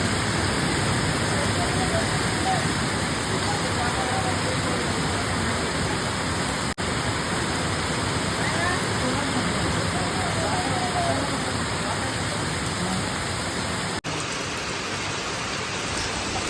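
Heavy rain pours steadily during electric pole installation and power line work, a dense unbroken hiss that stays loud and even throughout.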